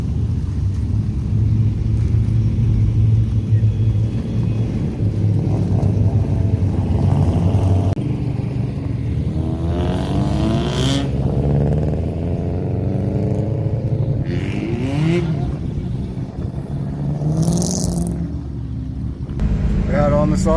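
A BA XR8 race car laps a damp, partly wet track, its engine a loud continuous roar that rises and falls through gear changes, with a voice talking over it.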